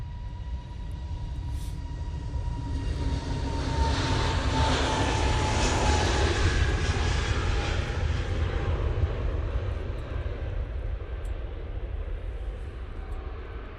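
An airliner taking off from Manchester Airport bound for Copenhagen gives a powerful, rising engine roar with a high whine layered over it, peaking midway and then slowly fading as it climbs away.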